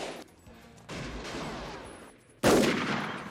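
Bursts of gunfire from a Clint Eastwood and Charlie Sheen action movie, with rattling volleys separated by brief lulls and a loud, heavy burst near the end.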